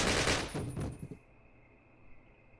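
Rapid gunfire from Call of Duty: United Offensive, a loud cluster of quick shots in the first second that drops off into quiet room tone with faint scattered sounds after.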